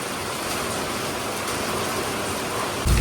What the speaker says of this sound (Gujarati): બહુ વરસાદ વધી ગયો છે ગાઈસ અત્યારે